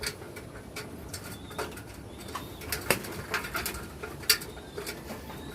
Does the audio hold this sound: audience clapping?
no